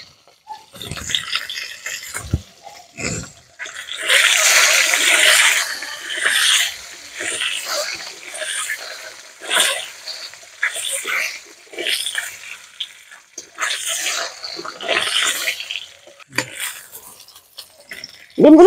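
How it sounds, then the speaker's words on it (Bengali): Duck eggs fry with a pinch of salt and turmeric in a pan for a Bengali egg curry. The loud, close sizzling comes in irregular surges and dies back to near quiet between bursts. "ডিমগুলো ভেজে নেব।"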